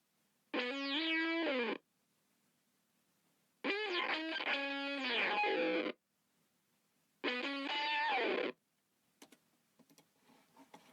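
Subdecay Noise Box fuzz pedal played alone in three separate loud bursts of gritty, wavering sustained tone, each a second or two long with silence between, followed by faint ticking noises near the end.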